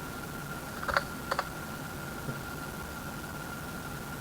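A computer keyboard gives a few quick, faint key clicks in two short bursts, then goes quiet against a low steady background hum.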